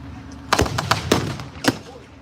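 Artillery fire at a tank battle reenactment during a tank weekend event: several sharp booming blasts in quick irregular succession, fairly close, with faint background noise between them.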